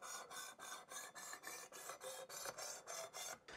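Light, steady knife-sharpening strokes on a Work Sharp Precision Adjust sharpener with a 600 grit stone, a rhythmic rasping repeated about a dozen times, close and moderately loud, with no talking.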